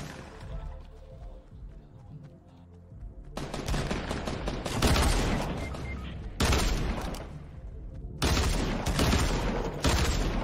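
Gunfire in a battle royale video game, several loud bursts of rapid automatic fire in close succession, separated by short gaps, near and dominant.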